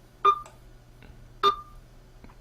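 Two sharp electronic beeps ring out about a second apart, each a bright clipped tone with a short tail, separated by near silence and a few faint ticks and a low steady hum.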